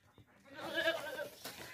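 A stout, healthy local goat at a livestock sale gives a single bleat of about a second. The call is fairly close and clear, with quiet background noise and no talk over it.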